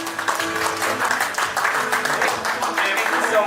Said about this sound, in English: let's clap it up for Queen Eunice as she comes up here